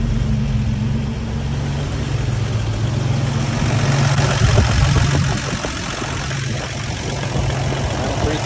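A Toyota FJ62 Land Cruiser engine idling at about nine hundred RPM, a steady low rumble with a faint knock, close and continuous with no talk.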